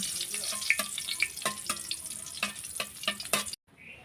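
Dried red chillies, one whole and two cut, fry in a kadai with a light sizzle broken by sharp scraping and clinking strokes, close and fairly loud, before stopping abruptly near the end.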